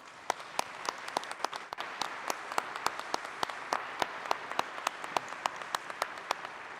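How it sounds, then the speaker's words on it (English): At a military change of command ceremony, an audience applauds steadily, with many distinct sharp claps standing out over a dense wash of clapping that continues for several seconds. "Let's give you a round of applause."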